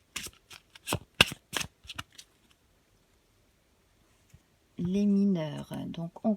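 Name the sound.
shuffling and drawing witches tarot cards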